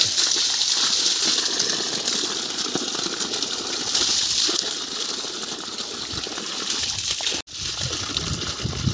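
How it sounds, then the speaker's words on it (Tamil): Water gushing from the outlet of a 1700W BLDC borewell pump drawing from 600 feet through a 2-inch pipe: a loud, steady rushing hiss that cuts out briefly near the end, then resumes. "தண்ணி நல்லாவே வந்துக்கிட்டு இருக்கு இன்னும் வாய்க்கால் பசமே பண்ணலாம் அந்தளவுக்கு தண்ணி வந்துட்டுருக்கு"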